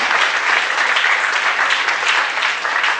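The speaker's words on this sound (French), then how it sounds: "je vous demande d'applaudir plus fort" Audience applause fills the room, a dense, steady wash of many hands clapping loudly and continuously with no voices over it.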